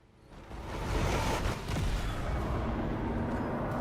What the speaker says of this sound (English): That is the sound of the encounter starting.